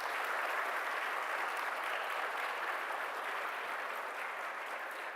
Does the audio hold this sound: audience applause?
yes